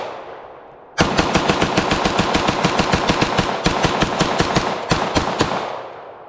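A 9mm pistol-caliber carbine empties a full 30-round magazine outdoors in loud, rapid semi-automatic shots after a second of quiet, with two brief pauses between strings near the end.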